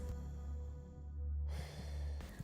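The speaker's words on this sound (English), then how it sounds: "Only breathing could be heard." Quiet breathing in a film scene where the screen goes black, soft and steady over a low background hum with no talking.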